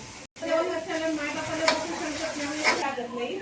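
Masala tempering for a spicy chicken curry sizzles loudly in hot oil as chicken water is poured in, a steady crackling fry stirred in the pan, with a brief gap at the start.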